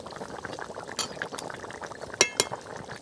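Sundarban crab curry with ghee and green chillies bubbling on the stove, a soft steady simmer with two sharp clinks of a utensil near the end.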